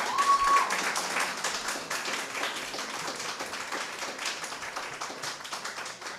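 An audience at an inter-schools debate competition applauds after a debate speech, with steady, dense clapping that carries on at an even level throughout.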